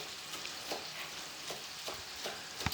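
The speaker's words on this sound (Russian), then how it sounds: "Проверяю, как у меня греются яйца с маслом" Eggs in butter warm in a hot frying pan, giving a faint, steady sizzle with soft crackles and light stirring taps scattered throughout.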